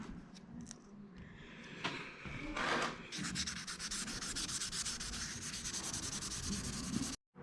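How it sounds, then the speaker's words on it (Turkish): Steady rasping wet-sanding strokes rub back and forth over sun-damaged clear coat on an Opel Corsa 1.4 GLS, continuous and fairly close, ending with a brief pause near the end. "Komple zımpara yaptım."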